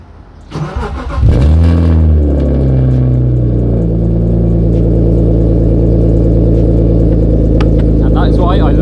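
A BMW E36 that has sat unused for a couple of months cranks briefly, catches and revs up loudly, then settles into a steady, rumbling idle heard close up.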